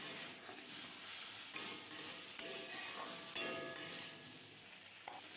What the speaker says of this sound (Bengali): আবারও ভালো করে নেড়ে ছেড়ে নিলাম